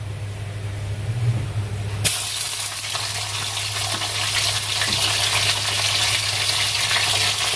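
Chicken pieces dropped into hot oil and spices for a chicken korma, a low hum giving way to loud, steady sizzling frying that continues throughout, close by.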